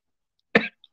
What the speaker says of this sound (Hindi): मेरी सारी खांसी बाहर आ गई मेरी आज